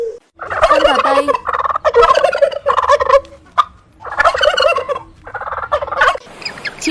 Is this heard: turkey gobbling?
yes